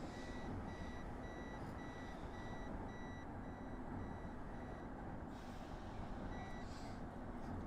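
Speed limit warning beeper in the Train Drive ATS 3 game: a regular series of short, high electronic beeps repeats at an even pace over a steady low engine rumble.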